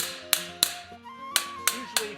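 Ball peen hammer tapping rivets flat on an iron mask: five sharp metallic taps at uneven intervals, close and fairly loud, with a faint ringing tone between strikes.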